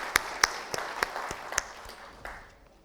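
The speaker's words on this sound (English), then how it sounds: "with a round of applause for all of us who have made it big time in terms of the awards" Audience at the inaugural session of the 15th CIDC Vishwakarma Awards 2024 applauding, with a few sharp individual claps standing out over a softer spread of clapping that fades away near the end.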